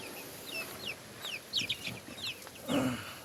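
Week-old dark mahogany show-type chicks chirp and cheep in quick, high repeated bursts, near but fairly faint, with a lower clucking call toward the end.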